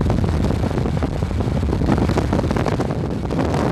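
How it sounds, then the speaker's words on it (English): A powerful, steady rush of blowing air roars continuously inside an acoustic wind tunnel during a helmet test, dense and loud, like a strong gale buffeting the microphone. "a researcher is testing a new helmet in an acoustic wind tunnel"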